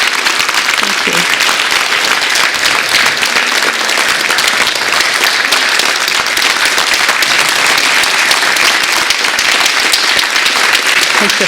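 Sustained, loud applause from a conference audience welcoming Naheed Farid to the stage, steady clapping throughout with the crowd filling the room.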